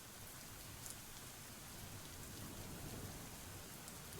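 Steady rain falls in a video game scene, a dense, even hiss of drops continuing at low level without pause and with no voices.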